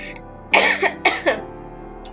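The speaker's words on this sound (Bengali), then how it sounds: "দাঁড়াও একটু কেশে নি" A person coughs a few times in quick, close bursts, followed by a faint short sound, with a quiet background hum.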